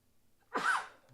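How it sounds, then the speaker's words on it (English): A single sharp human sneeze bursts out after a quiet breath, brief and close, alone without any talk around it. "Man, can't stop sneezing."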